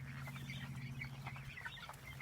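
Pastured chickens cluck and chatter continuously outdoors in a field, several birds close by with overlapping calls over a low steady hum.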